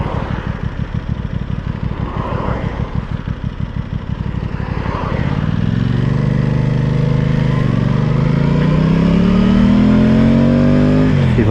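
Aprilia Tuono 660 Factory motorcycle ridden in second gear at about 29 mph, jerky throttle response giving a pulsing engine note that then smooths into a steady rising drone, loud and close with wind noise.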